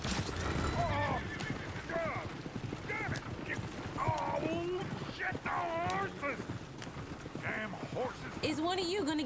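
Horses whinny several times amid clip-clopping hooves in the video game Red Dead Redemption 2, with voices talking and scattered background noise throughout.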